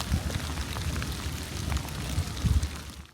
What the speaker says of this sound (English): And plenty of rain and wind all across the coast.